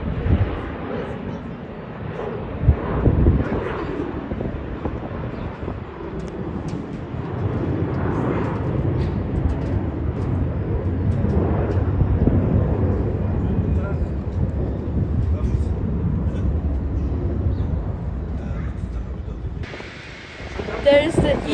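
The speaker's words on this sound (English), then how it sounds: "There is the E190, the Lufthansa City Line." Lufthansa CityLine Embraer E190 jet landing at Leipzig airport, a broad, steady jet roar swelling and fading from a distance under wind noise, with someone talking over it.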